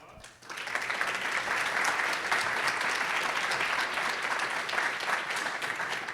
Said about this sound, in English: That's a huge round of applause.